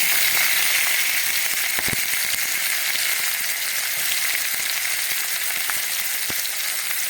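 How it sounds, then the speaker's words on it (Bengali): Panch phoron seeds and onion sizzle loudly and steadily in hot oil with a dense, continuous crackle and a few sharp pops, no voices over it. "তেলটা গরম হয়ে গেছে এবার আমি এর মধ্যে দিয়ে দিচ্ছি এই যে ফোড়ন পাঁচ ফোড়ন তারপরে দিয়ে দিচ্ছি একটা পেঁয়াজ"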